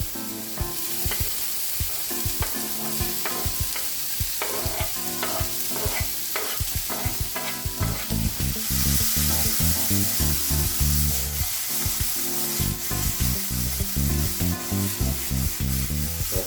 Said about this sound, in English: We'll saute that a little bit.